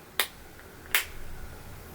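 Two sharp, crisp clicks about three-quarters of a second apart as an Oakley sunglasses lens pops into its frame, close up against a quiet background.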